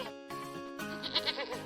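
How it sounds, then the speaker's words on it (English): A goat bleats once in a short, wavering cry that rises near the end, heard fairly close against quiet background noise. "This is the goat."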